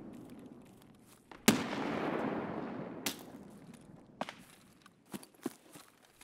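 Gunfire in Escape From Tarkov, a sharp nearby shot followed by a long rolling echo, then a few fainter distant shots and scattered impacts.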